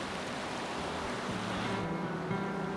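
Flowing whitewater rushes steadily beside a canoe during a paddling festival, a broad, close hiss of moving river water with low rumbling underneath, with no voices.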